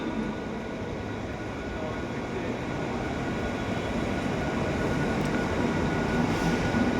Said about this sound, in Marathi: प्लॅटफॉर्म क्रमांक 6 वर आलेली लोकल कारशेडला रवाना होऊन